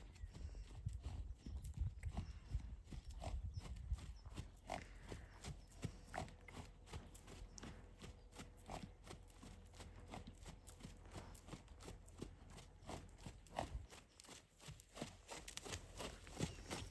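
A horse named Ben walks steadily on a hard surface, hooves clip-clopping in a brisk, irregular rhythm close by, with occasional louder strikes and a short lull near the end.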